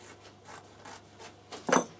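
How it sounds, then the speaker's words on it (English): Scissors cut a piece of fabric, giving soft rhythmic snipping and rubbing strokes about every quarter second, then a louder crisp snip near the end; close and quiet with no talk. "I'll just cut a piece of fabric"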